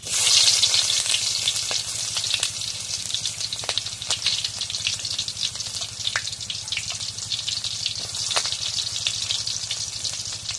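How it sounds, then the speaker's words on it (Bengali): Chopped onion frying in hot oil, a bright continuous crackling sizzle with scattered pops and occasional stirring clicks, close and steady over a faint low hum, with no talk. "এখন কড়া তেল দিয়ে দিই এখন পেঁয়াজ কুচি দিয়ে দিই"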